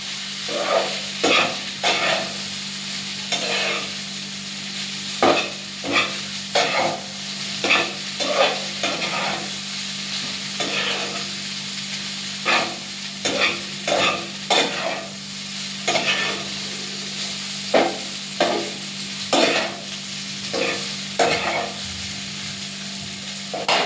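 Maggi masala being stirred in a frying pan, a spatula scraping in steady repeated strokes over a soft constant sizzle, close and clear with no talk.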